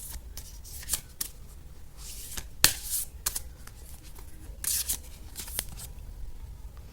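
Tarot cards are shuffled and a card is drawn from the deck, giving quick papery riffles, flicks and snaps in irregular bursts, close and fairly quiet with no voice over them.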